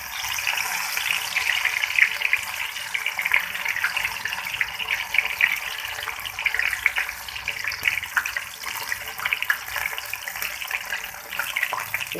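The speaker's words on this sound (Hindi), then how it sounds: "अब मैं मूंगी को फ्राई करती हूँ, मूंग की दाल।" Moong dal frying in hot oil, a steady bright hiss and crackle that continues evenly throughout, close and moderately loud with no talking.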